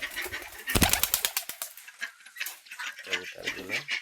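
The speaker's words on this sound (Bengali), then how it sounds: "কবুতরগুলো চালে উড়ে আসছে" Pigeons flapping their wings as they fly up onto a house roof, a burst of loud close wingbeats followed by lighter flutters and scattered taps, with soft cooing near the end.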